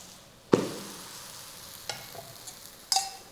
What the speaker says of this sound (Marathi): याला तूप लावायचं किंवा तेलही लावू शकता पोळी दोन्ही बाजूने छान अशी भाजून घ्या